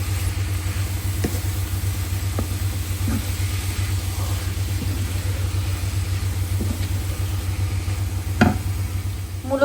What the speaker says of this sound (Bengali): এখানে বাংলাদেশ থেকে আনা ছোট চিংড়ি দিয়ে মূলোটা ভাজি করতেছি